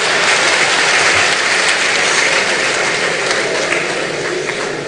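Sustained audience applause fills a conference hall during a speech on free, fair and transparent elections, a dense, steady wash of many hands clapping at close range with no voices on top.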